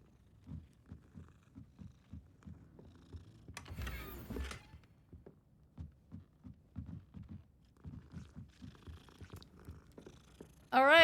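Cats purr as they are petted in the video game Hogwarts Legacy, a soft, low rhythmic rumble pulsing steadily, with a brief rustle midway and a short burst of game sound at the end.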